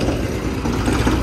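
A modified tractor's engine runs steadily, a loud, close, rumbling drone with no break and no voices.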